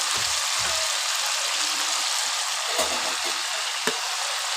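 Onion paste sizzles in hot oil while chicken cooks, giving a steady, bright frying hiss with a few soft stirring bumps underneath.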